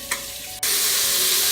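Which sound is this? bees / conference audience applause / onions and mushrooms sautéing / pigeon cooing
onions and mushrooms sautéing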